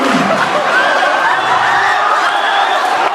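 Crowd in a high school auditorium at a hypnotist show, a steady dense wash of applause and cheering with murmured voices mixed in, loud and sustained throughout.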